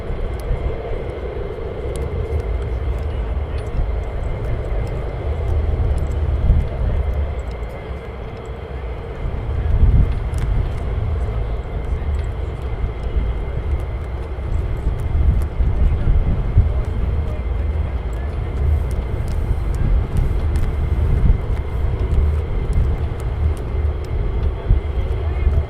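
Military fighter jets launch at RAF Lakenheath, their engines making a loud continuous roar that swells and holds throughout, heard from a distance outdoors.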